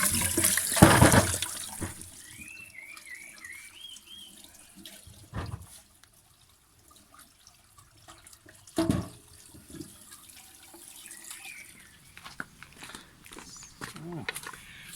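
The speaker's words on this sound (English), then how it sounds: "So we're just going to wash the beetroot nicely" Beetroot washed under a running tap on a farm: a loud gush of water at first, then intermittent splashing and handling in the sink while people talk and birds chirp.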